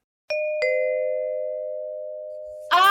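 A two-tone doorbell chimes, ding then dong, the tones ringing out and slowly fading in a quiet room before a voice cuts in.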